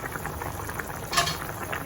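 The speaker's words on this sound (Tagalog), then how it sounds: "Saging na saba na prito na prito." Steady, soft sizzling of saba bananas frying in oil, with a faint clink partway through and no voices.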